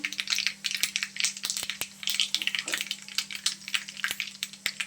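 Mustard seeds spluttering in hot oil, a dense run of sharp crackles and pops with a steady hiss beneath, close and fairly loud throughout.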